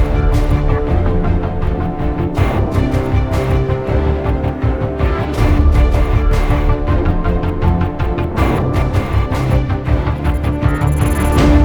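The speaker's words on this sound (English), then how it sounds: "At this point, I've mixed the strings," Orchestral string section in a mixed composition, dense sustained chords with rhythmic accented bowing swelling at regular intervals, loud and full throughout, with no voices.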